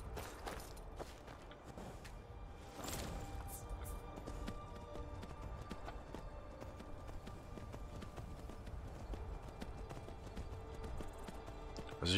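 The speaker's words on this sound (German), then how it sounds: "Wo ist denn jetzt mein Pferd?" Horse hooves clip-clop steadily in Skyrim, a quiet, even rhythmic trot that carries on throughout, with brief soft game sounds in the background.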